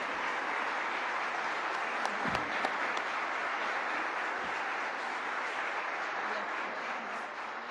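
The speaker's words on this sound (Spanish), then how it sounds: "Le damos un aplauso al Padre Cristian." Congregation at a Eucharistic Congress church gathering applauding Father Cristian; a steady, even wash of clapping from a large crowd fills the whole stretch at moderate distance, with no talking over it.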